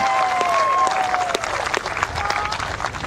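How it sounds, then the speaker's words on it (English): Applause at the 2016 World Bowls women's pairs final between New Zealand and Wales, scattered clapping from a modest crowd, moderately close and fading in and out, with a commentator talking over it. "She's applauding it already."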